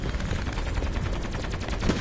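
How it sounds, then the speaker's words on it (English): Rapid video-game trench gun shotgun blasts ring out in a dense, loud volley, repeated shots close together with no talking. "I fucking like this shotgun."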